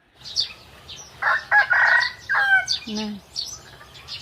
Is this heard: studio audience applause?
no